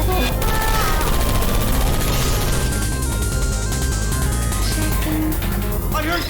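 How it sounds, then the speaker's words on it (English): Gunfire in the video game Portal 2, a dense, continuous rattle of shots layered over a busy game soundtrack, loud and steady throughout with no voices. "I heard gunfire!"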